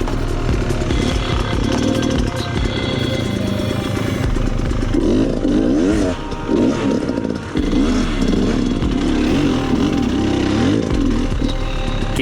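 An enduro motorcycle labours up a steep off-road hill on a cross-training ride, its engine loud and close with a sustained rasping drone, revs rising and dipping while the rear wheel fights for grip.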